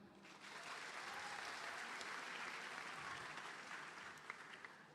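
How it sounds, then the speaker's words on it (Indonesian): Audience at a public gathering in Medan claps in a sustained round of applause, a broad even patter of many hands that fades slightly toward the end. "tepuk tangan."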